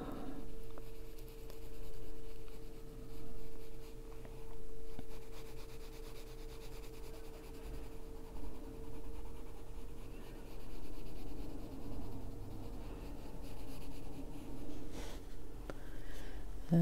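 A colored pencil lightly blends shading across paper, a soft continuous scratchy rubbing with gentle pauses and shifting strokes, quiet and close, with no speech.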